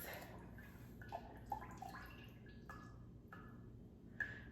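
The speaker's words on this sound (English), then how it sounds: "And I'm gonna pour it in." Thick coquito, a Puerto Rican coconut drink, is poured from a ladle, giving soft scattered splashes and drips, quiet and close.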